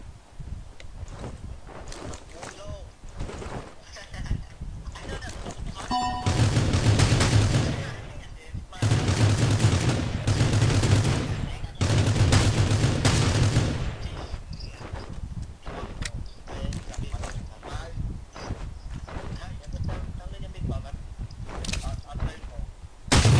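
Gunfire in the Rule of Survival battle royale game, including AWM sniper shots: bursts of rapid shooting and single cracks over a busy game soundscape, with a player talking over much of it.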